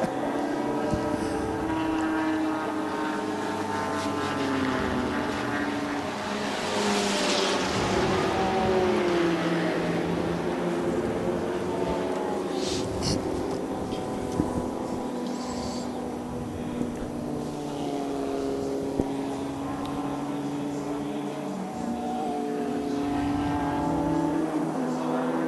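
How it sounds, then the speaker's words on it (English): Renault Clio number 104 race car, Thomas Franken driving, in qualifying for the 2013 24H Dubai endurance race: a loud, continuous engine drone whose pitch climbs and falls with gear changes, with other cars blending in. "that's the Renault Clio 104, Thomas Franken at the wheel."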